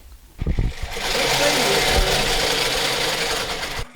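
Domestic electric sewing machine stitching men's underwear for soldiers, running steadily for several seconds with a dense whirring motor and needle chatter after a few short starting clunks, close and fairly loud.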